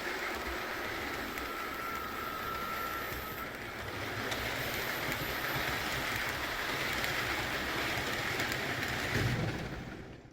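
An HO scale Acela Express model train runs steadily nearby, a continuous whirring rumble with faint clicking, growing slightly louder before fading at the end.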